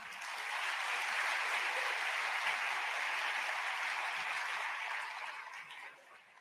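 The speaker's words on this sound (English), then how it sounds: "A bigger round of applause, please, as they take their seats." A crowd at the Africa Climate Summit in Nairobi breaks into sustained applause, dense and even for several seconds before fading out near the end, with no speech over it.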